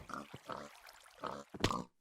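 Pigs grunt and oink in a Minecraft mob farm, several short close snorts in quick succession with brief pauses between them.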